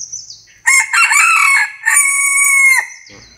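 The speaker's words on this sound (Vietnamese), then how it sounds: "Là gáy rất tự nhiên, đuôi gót cong." A bantam rooster crows loudly and close by in one full call, with a rising start, a broken middle and a long sustained final note that trails off.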